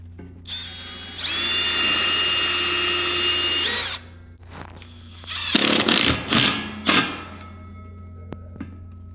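A power drill drives a screw through a metal railing base plate, a loud whine rising over about three seconds, then a few clanks and bursts of tool noise as the work goes on. No one speaks.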